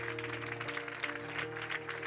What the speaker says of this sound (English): Clap your hands real big.